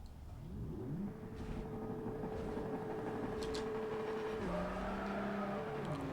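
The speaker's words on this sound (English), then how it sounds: "You can hear the supercharger whine." A supercharged car engine in Forza Motorsport 4 revs and shifts with a high supercharger whine layered over the steady motor drone, continuous and fairly loud.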